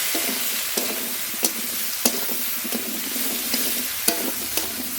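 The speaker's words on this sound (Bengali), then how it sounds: "লাউ একটু কষিয়ে নেব" Bottle gourd sautéing in hot oil with salt and turmeric, a steady close hiss and sizzle with regular light taps of a spatula against the pan roughly every half second.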